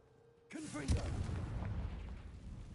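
A Confringo blasting spell bursts in Hogwarts Legacy, a sudden booming explosion that hits after a short whoosh and then rumbles and crackles as the blast dies away, with no talk over it.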